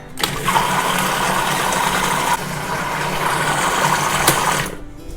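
A blender whirs steadily as it mixes homemade shea butter lotion, with a continuous motor hum that shifts slightly partway through before cutting off at the end.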